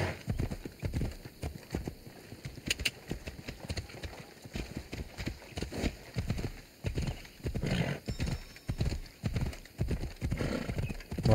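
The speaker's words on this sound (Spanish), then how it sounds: "Y se sube al caballo y todo." A horse gallops in Assassin's Creed Odyssey, rapid rhythmic hoofbeats continuing throughout with a brief whinny and game ambience.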